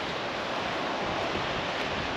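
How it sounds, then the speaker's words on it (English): Ocean surf breaking on a nearby beach in Western Australia, a steady broad hiss and wash of waves mixed with wind, constant and fairly loud with no voices. "There's a beach just over there."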